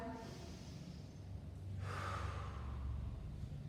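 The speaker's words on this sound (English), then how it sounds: "Take a breath." A single deep breath, a long slow inhale that swells and then eases out, close and fairly quiet against a low background hum, with no one talking.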